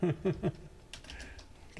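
Someone types on a computer keyboard during an amateur radio net, with a few quick thumping keystrokes up front and lighter clicks after, no talk over them.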